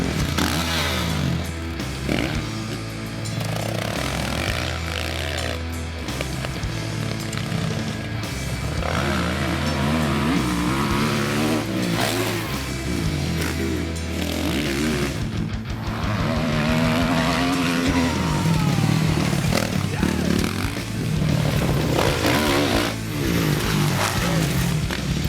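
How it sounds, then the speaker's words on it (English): A 2013 Kawasaki KX450F motocross bike rides a dirt track at Paddingtonga, its single-cylinder engine droning and rising steadily through gear changes for the whole stretch, loud and close with no talk over it. "Today we're testing the 2013 KX450F here at Paddingtonga."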